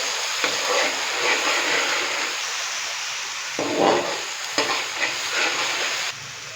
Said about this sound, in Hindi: अभी मैं इसके अंदर अदरक, लहसुन और सब्जी मिर्च का पेस्ट डालूंगा। अच्छे से हम इसको मिक्स करेंगे।